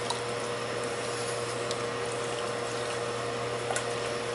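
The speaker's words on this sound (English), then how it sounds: "So it's 8 cups of water." Eight cups of water pour steadily into a cooking pot for lentil soup, a continuous close rushing splash with no talking.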